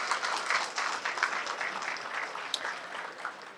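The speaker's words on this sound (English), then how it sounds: "So I do want to give them another round of applause." Audience applause at a bank branch grand opening, a steady patter of many hands clapping together for a few seconds, moderately distant and fairly soft.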